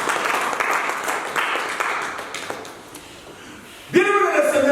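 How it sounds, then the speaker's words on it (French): A church congregation applauding during a sermon, a dense wash of clapping that thins out, then a preacher speaks loudly over the tail end. "acclame Dieu"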